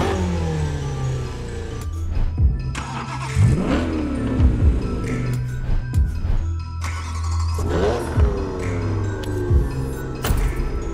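A car engine in The Crew Motorfest racing game revs repeatedly, rising and falling in pitch through gear changes, loud and close with no talk over it.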